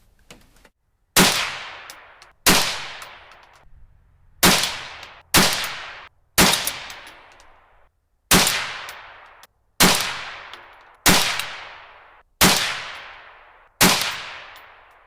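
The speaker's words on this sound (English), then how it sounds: "This is the Spear Gold Dot, hollow point, 40 grain." A CZ 512 .22 Magnum semi-auto rifle fires Speer Gold Dot 40-grain hollow point rounds in a field test: ten sharp, loud shots spaced roughly a second apart, each with a short decaying echo, no talking.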